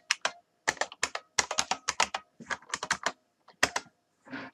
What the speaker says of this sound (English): So I'll type my email address.